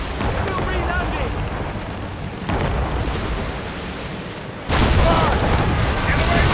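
Ship cannons and mortars firing in a naval battle in Assassin's Creed Rogue, deep rumbling blasts under stormy wind and sea noise, with a louder burst near the end and shouted commands nearby.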